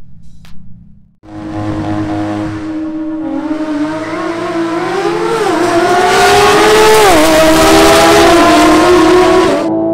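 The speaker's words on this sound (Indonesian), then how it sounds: "GT3 RS berhasil start dengan baik dan memimpin balapan" Porsche GT3 RS race cars with IPE exhaust, upgraded tune around 410 WHP, carbon brakes and Eagle F1 tyres roar off the start, engines rising loudly through accelerating revs and gear changes, close and continuous with no talk.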